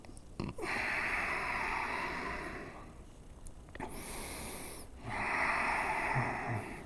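Deep, slow breathing during a strong yoga flow class, with two long audible breath cycles, a sharp nasal intake near the start and a soft, breathy exhale rising and falling in broad noisy swells.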